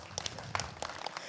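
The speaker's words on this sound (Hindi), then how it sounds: "मैं चाहता हूँ कि भाई के लिए एक बार ताली हो जाए" Brief burst of scattered clapping from a small gathered crowd for a student speaker at an outdoor public discussion in Masuri, Ghaziabad, with sharp irregular claps over a background murmur.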